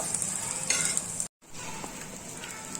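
Peanuts and green chilies roasting in a pan on low flame, a soft continuous sizzle with gentle stirring scrapes, broken by a brief moment of silence.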